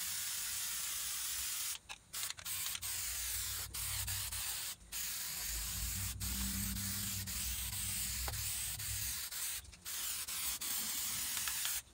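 Rust-Oleum chalkboard spray paint hisses from the can in repeated close bursts, sustained sprays broken by short pauses and quick clicks of the nozzle.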